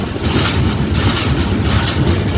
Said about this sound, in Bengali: এখনই ব্রিজে উঠে যাবে ট্রেন।